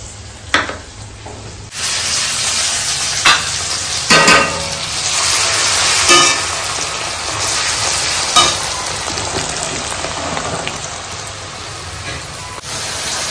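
Cumin, bay leaf and spices frying in oil for egg biryani, a loud steady sizzle with intermittent stirring scrapes and clanks throughout, close up, with faint background voices.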